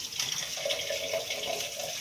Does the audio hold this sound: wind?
no